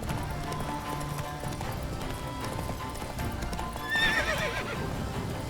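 A horse in The Witcher 3 clip-clops along at a steady gait under a busy game score, then lets out a loud, bright whinny near the end.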